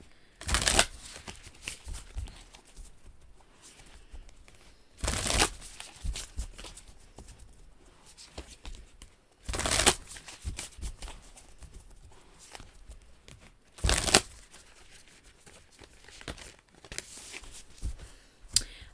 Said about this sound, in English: Concentrate on the Soul Truth cards while I shuffle, please